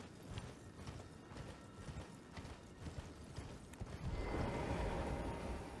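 Horse hooves clip-clopping at a steady gait while riding in a fantasy video game, faint and rhythmic, thickening into a denser rumbling of hooves and gear near the end, with no voices.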